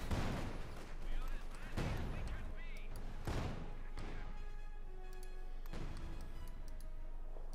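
Gunfire in Company of Heroes 2 as a Soviet-versus-OKW battle rages, sharp shots cracking out at irregular intervals over a steady din of distant battle noise and ringing mechanical tones, fairly loud and continuous.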